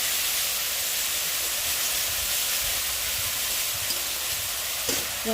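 Ginger, onion, cumin and chili pastes being sautéed in a pan: a dense, even, hissing sizzle throughout, with a few light stirring taps toward the end.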